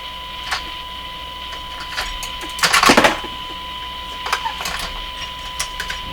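A metal screwdriver works the alignment screws inside a Zenith 6J05 tube radio, giving faint scattered clicks and taps over a steady hum, with one brief, louder scraping burst near the middle.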